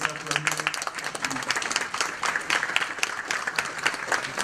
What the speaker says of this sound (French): Je voudrais que vous les acclamiez.